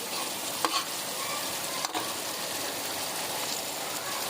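Tomatoes fry over medium heat in a pan for egg dal with a steady hissing sizzle. Two brief stirring knocks sound near the start and middle.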